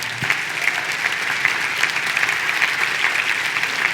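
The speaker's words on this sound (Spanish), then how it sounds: "Dale un aplauso fuerte al Señor." Church congregation giving a loud round of applause to the Lord after a prayer, a close, continuous burst of many hands clapping with no talk over it.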